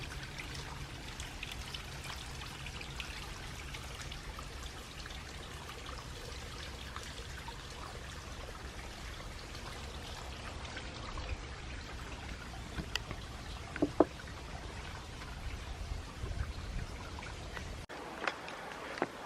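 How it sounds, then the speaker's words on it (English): A stream flows on Hong Kong's Dragon's Back hiking trail, a soft, continuous trickle and splash heard up close but faintly, steady throughout with a few brief sharper drips, and no voices. "The sound of water is always so calming."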